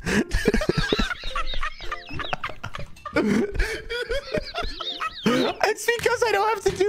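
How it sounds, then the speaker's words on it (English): A small, faked cough in the co-op video game Bread and Fred, a short throaty burst amid lively chatter and laughter from players talking over it. "so I'm just doing a tiny cough"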